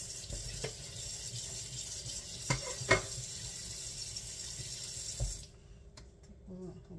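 Raw chicken being rinsed under a running kitchen sink tap: a steady broadband water rush with a few brief clunks and splashes, then the flow cuts off near the end leaving quiet handling noise.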